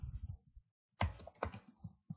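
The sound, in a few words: typing on a computer keyboard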